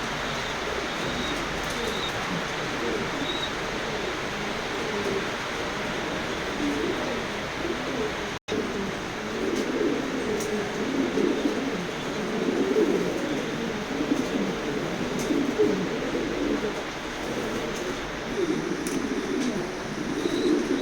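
A big pair of racer pigeons coo steadily in low, repeated throaty calls close by in a loft, with faint chirps and shuffling around them.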